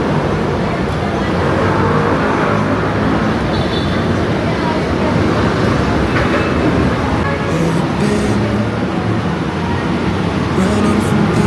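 Loud, constant rumble and rattle inside a moving MRT metro train, steady throughout with faint clicks and no clear talking.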